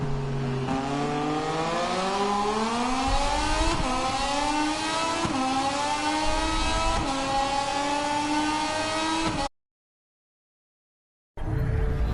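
A Moto2 racing motorcycle engine accelerates hard through its gears on the track during qualifying, rising pitch broken by quick shift dips. It roars loud and close and continuous, cuts to silence briefly, then returns at the end.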